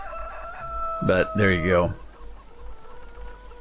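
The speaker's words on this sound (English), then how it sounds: "free roaming chickens, which I don't really care for" Free-roaming chickens in Farming Simulator 2017 give a short burst of loud crowing and clucking, then a quieter tail, with a man's brief remark heard over steady game ambience.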